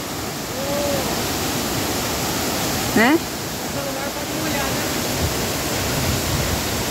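Waterfall spray and rushing water roar as a steady, loud broadband wash throughout, with a voice speaking briefly over it and a short whistle-like sound near the middle.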